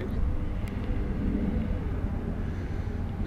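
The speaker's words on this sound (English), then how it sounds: "Is that a plane? It's a quadcopter." A Yuneec Typhoon quadcopter drone in flight, a steady broadband whirring drone of rotor noise heard throughout at moderate level, with no talking.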